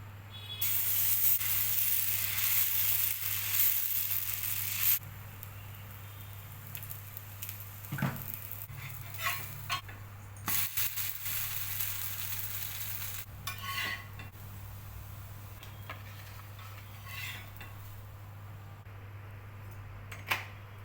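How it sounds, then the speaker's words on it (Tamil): Adai dosa batter made with mudakathan keerai, poured onto a hot stone griddle, a bright loud sizzle for the first seconds, then a softer steady crackle and hiss with occasional scrapes over a low steady hum. "இப்போ கல் காஞ்சிருச்சு. இப்போ தோசை ஊற்றலாம் வாங்க."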